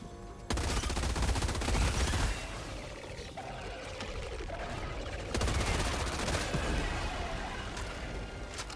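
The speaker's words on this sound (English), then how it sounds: "That gun has ridiculous RPM." A very high rate-of-fire automatic gun in a video game unleashes long continuous bursts, a dense roaring rattle in two extended strings separated by a brief pause, close and loud, with no talking.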